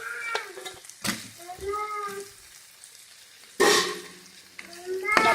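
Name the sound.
fried chicken pieces added to frying masala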